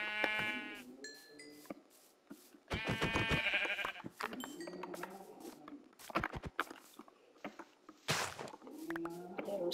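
Blocky sheep bleats from the video game Minecraft, several short nasal cries in bursts across the clip, mixed with other game sound effects and thuds, fairly close and loud with no talking.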